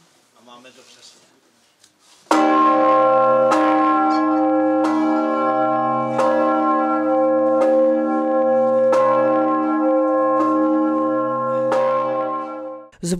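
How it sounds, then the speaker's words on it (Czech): A large church bell, Augustin, tuned to C1, tolls repeatedly at a slow, steady pace, each heavy strike ringing out loud and full, its rich hum lingering between blows. "rozpohybování zvonu"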